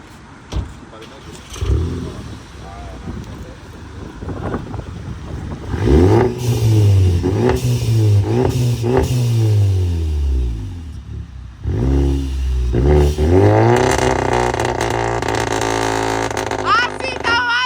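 A Volkswagen Jetta engine cranks to life and revs in repeated rising bursts, loud and close, with a voice speaking now and then between the surges.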